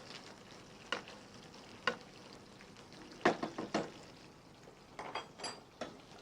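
Dover sole pan-frying in butter gives a soft, steady sizzle, broken by several sharp knocks and scrapes of a spoon or pan at irregular moments, some clustered together, fairly close and moderately loud.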